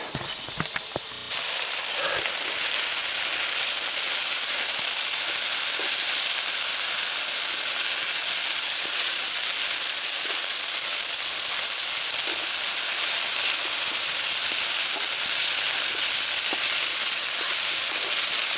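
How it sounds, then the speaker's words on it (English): Steady sizzling and hissing of vegetables frying in oil in a hot pan, with occasional soft clicks and stirring sounds, close and continuous. "Keep frying the veg."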